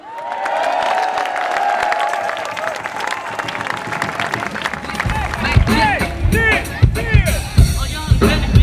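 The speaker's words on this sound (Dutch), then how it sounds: "Geef jullie zelf een geweldig applaus." Crowd applause at a parade gathering on the LucasBolwerk in Utrecht, dense clapping with cheers that grows louder and more scattered toward the end, with voices over it.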